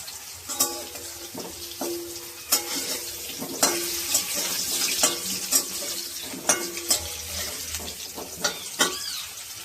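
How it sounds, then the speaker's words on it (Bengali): Potatoes frying in oil in a pan while being stirred, with sharp repeated scrapes and clinks of a utensil over a steady close sizzle, no voices. "আলুটা ভাজা হয়ে এসেছে, আর একটু ভেজে নেব।"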